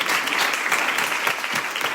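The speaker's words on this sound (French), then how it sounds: "Je pense qu'on peut les applaudir." An audience at a business meetup applauds steadily, a dense wash of many hands clapping throughout with no pauses.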